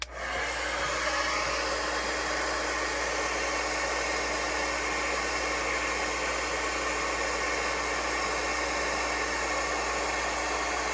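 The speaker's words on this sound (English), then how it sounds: "we're going to take our heat embossing gun and we're going to make some noise" A loud, constant blowing whoosh of a heat embossing gun running nonstop, with a low steady hum underneath, starting abruptly and holding even.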